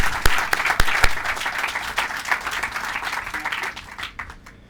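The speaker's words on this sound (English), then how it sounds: "Let's give them all a round of applause." An audience at a school groundbreaking ceremony breaks into applause, with a few sharp, distinct claps standing out early before the clapping thins and fades away at the end.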